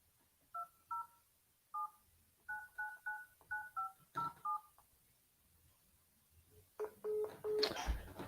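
A phone dials out during a real estate cold call: a quick run of about a dozen separate touch-tone beeps in irregular groups, followed by a brief line tone and some clatter near the end.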